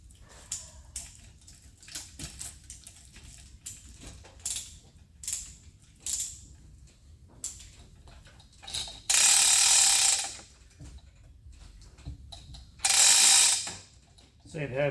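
A ratchet come-along hoist is slackened off on a Jung HF50 surface grinder under repair, giving a series of short, separate mechanical clicks and clunks with two louder bursts of ratcheting near the end.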